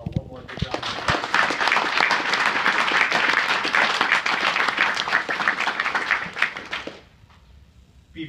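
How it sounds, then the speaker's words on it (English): A large audience claps in sustained, loud applause for several seconds, then it fades out quickly into quiet. "Can we give them one more good round of applause?"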